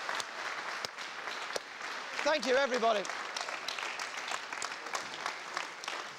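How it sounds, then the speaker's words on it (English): Studio audience applause on a television psychic-experiment show, steady clapping throughout with someone speaking over it briefly in the middle. "A round of applause"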